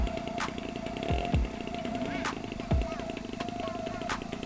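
A small model airplane engine buzzes loudly and steadily throughout, a high-pitched droning whine with occasional brief swells, close by.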